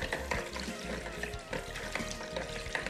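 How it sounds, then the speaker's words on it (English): A whisk stirring in a plastic bowl makes a steady, busy clatter and swish, close and fairly loud, with a few sharper knocks against the sides. "Just use a whisk"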